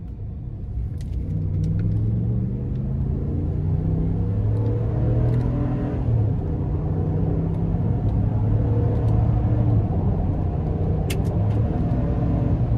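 A 2018 Ram 1500 Night Edition with a Hemi engine pulls hard, its deep, steady rumble rising in pitch and dropping with each quick gear shift, heard continuously from inside the cabin with faint clicks of the shift paddles.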